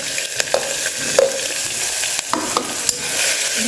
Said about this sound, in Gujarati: ડુંગળીને આપણે સાતળવા દઈશું બરાબર.